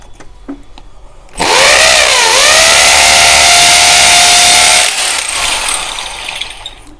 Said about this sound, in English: Now I have applied the hammer drill because we are trying to drill on the rough surface.